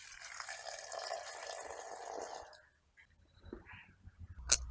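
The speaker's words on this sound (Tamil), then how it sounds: "இது அரைக்கிறதுக்கு தேவையான அளவு தண்ணி விடுவோம்." Water pours steadily into a mixer grinder jar holding dried red chillies for grinding a paste in a Sri Lankan village kitchen in Jaffna, a close gushing stream lasting about two and a half seconds before going quiet, followed by faint clinks.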